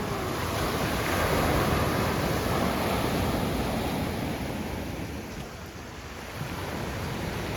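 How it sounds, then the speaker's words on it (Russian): Sea waves surge and wash continuously onto a Russian beach, a broad, rushing roar with wind buffeting the microphone and no clear pause between breakers. "Ох, какие волны."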